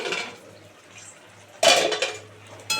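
A metal lid lifted off a pot of jute-leaf and shrimp curry, giving a sharp clatter partway through and another clink near the end over a quiet kitchen background.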